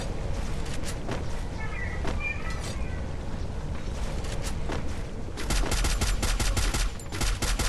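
Rapid gunfire in Free Fire, with bursts of sharp shots throughout that intensify into a dense, fast volley near the end, close and loud over a busy game background.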